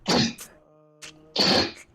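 A short burst of explosive nasal-throat noise, then a brief pause and a second loud burst, close and sharp, like a sneeze with a quick intake.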